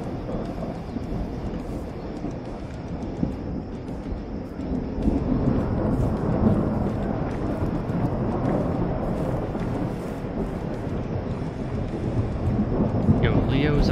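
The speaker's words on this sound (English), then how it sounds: "Sit out here in the rain." Rain and thunder in the video game Animalia Survival: a dense, steady downpour under a long, deep rolling rumble of thunder that swells louder partway through and keeps grumbling to the end.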